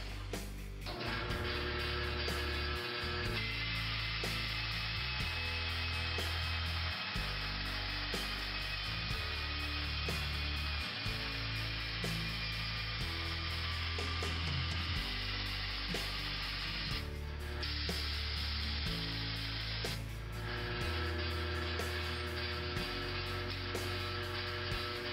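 Bandsaw cutting thin sheet steel, a continuous loud hiss and buzz over a steady low motor hum, with a few shifts in tone as the cut progresses.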